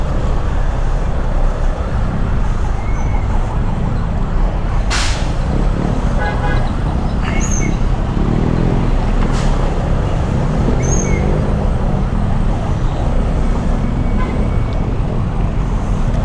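Dense, loud street traffic of cars and motorcycles fills the whole stretch, with a few short horn toots rising above the steady roar of engines.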